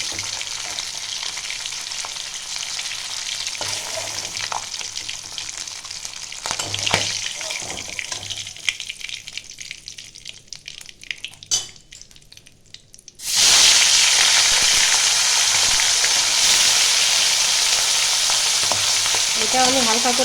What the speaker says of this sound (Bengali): এটা আমি হালকা করে ভেজে নেব।